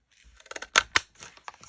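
Scissors snip through heavy craft paper in a quick run of close, crisp cuts, with two louder snaps in the middle and lighter clicks trailing off.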